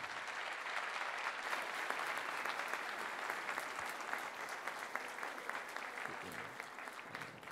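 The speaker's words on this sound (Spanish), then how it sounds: "El aplauso fuerte, Boca del Río" Loud, dense applause rises from the crowd at a mass wedding ceremony in Boca del Río, continuous and evenly sustained across the whole stretch, with faint voices mixed into the clapping.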